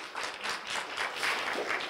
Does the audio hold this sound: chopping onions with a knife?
no